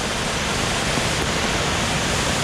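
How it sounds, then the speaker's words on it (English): A roaring waterfall near Guadalupe, Colombia, fills the clip with a loud, steady, unbroken broadband rush of falling water, close and with no other sounds over it. "I found another way to the other side of the waterfall, so it's just roaring now"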